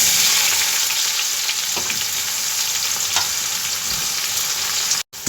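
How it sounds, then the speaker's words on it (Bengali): Onions frying in a pan with whole cumin and fennel seeds give a constant, loud sizzling hiss, with a few soft scrapes of stirring before a sudden brief cutoff near the end. "পেঁয়াজটা একটু ভাজা ভাজা করে নেব।"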